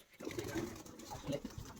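Low, soft cooing of pigeons, a few rounded coos rising and falling against faint background rustle.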